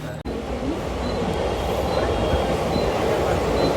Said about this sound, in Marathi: फायनली ट्रेन आली आहे